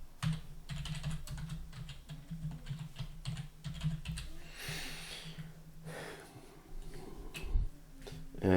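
A computer keyboard typed on in a steady run of close, light key clicks, with a brief pause and a few stray taps and breaths near the end.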